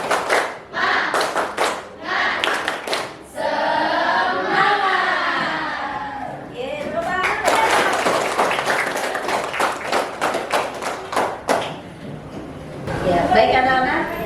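Classroom pupils perform a rhythmic spirited clap chant, bursts of synchronized clapping in patterned beats alternating with group chanting voices, close and loud in an indoor classroom.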